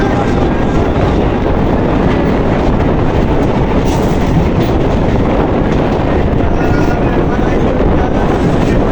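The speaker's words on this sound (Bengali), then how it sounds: "লোকাল ট্রেন, এটা হচ্ছে ইসাপুর স্টেশন।" A local train runs through Isapur station with a loud, continuous rushing rumble and wind roar, steady throughout with no voices clearly heard.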